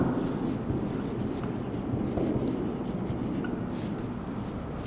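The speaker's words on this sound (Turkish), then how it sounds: "Aynı şekilde yazıyorum." A pen writes on paper in a steady scratching rhythm, close and continuous, with no talk.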